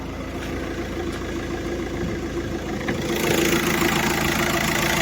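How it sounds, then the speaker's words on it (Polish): Diesel idle from a VW Touran 2.0 TDI that needed a jump start and is now at operating temperature, suspected of knocking near the air filter housing: a steady, close mechanical clatter that swells slightly louder partway through, with no talking. "Jak silnik sobie chodzi, jeszcze się suszy."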